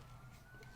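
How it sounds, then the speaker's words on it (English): A faint, distant emergency siren wails briefly in the background, a thin rising tone under low ambient hum. "And if you hear sirens in the background..."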